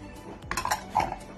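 Cocoa powder, milk powder and salt stirred together in a bowl for choco crinkles, a short burst of a few close clinks and scrapes of a utensil on the bowl, with no voice.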